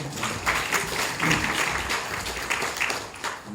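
At a Saemaul workshop in Pocheon, an audience applauds in a dense, fairly loud burst of overlapping claps that swells and dips slightly across the few seconds.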